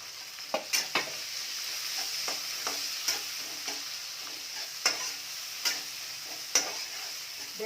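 Onion, green chili and shrimp fry together in a pan, giving a constant close sizzle punctuated by several crisp spatula clicks and scrapes against the metal, with no speech.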